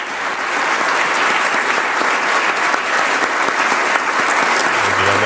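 Sustained applause from a crowd greets Mark Carney's arrival, a dense, even clatter of clapping hands that holds steady throughout.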